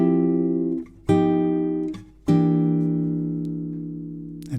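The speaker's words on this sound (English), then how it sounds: "So that 3-chord transition sounds like this." Sustained jazz chords on a guitar move through a three-chord blues transition, each voicing struck cleanly and left to ring and slowly decay, three distinct strums in total with no talking.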